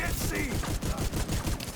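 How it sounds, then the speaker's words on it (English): Rapid burst of loud explosive blasts and gunfire-like crackle from a Predator missile hitting the player in a first-person shooter video game, dense and continuous over a low rumble. "I wanna run ahead and take this Predator missile to the face"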